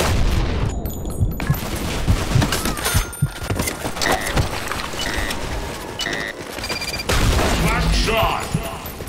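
Rifle gunfire in the shooter game BlackShot, dense bursts of shots and booms running throughout at steady loudness, with in-game announcer voice lines over the firing.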